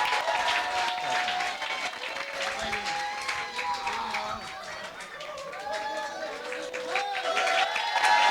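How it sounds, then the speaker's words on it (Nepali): Guests clap at a wedding ring ceremony, a moderate stretch of steady applause with voices and chatter mixed in throughout. "ताली बजाउनु है।"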